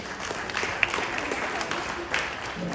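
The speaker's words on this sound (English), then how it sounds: "A big round of applause for that." Applause from an audience at an interview-style gathering, a steady broadband wash of clapping lasting the whole moment at moderate level, with a couple of sharper individual claps standing out.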